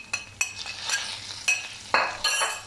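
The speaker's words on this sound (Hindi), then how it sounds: "और इसे 1 मिनट के लिए भून लेंगे।" Mutton fried with garam masala and black pepper in a handi, a spoon scraping and clinking against the pot in several sharp strokes over a soft sizzle.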